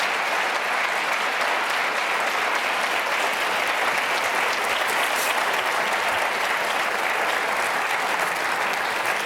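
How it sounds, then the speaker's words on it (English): Audience applause after closing statements at a Virginia Attorney General debate, dense sustained clapping from a large crowd that holds steady for about nine seconds, with no talk over it. "Let's give them applause, please."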